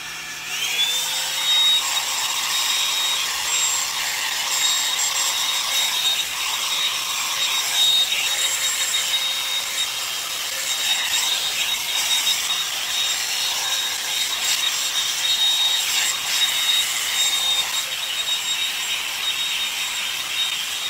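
A Revlon hair dryer blows steadily on a section of hair pulled straight up, giving a loud, close, continuous rushing airflow with a thin high motor whine. It runs unbroken throughout, with no talk.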